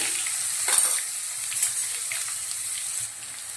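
Steady crackling sizzle of asafoetida and mustard seeds frying in hot oil, close and continuous, with a brief spatter burst near the start.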